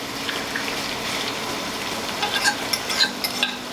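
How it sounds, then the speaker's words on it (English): Chicken and garlic frying in a large skillet, a loud, continuous close sizzle with occasional clinks and scrapes of stirring and no voices. "This is a large skillet, so I'm just gonna put everything in"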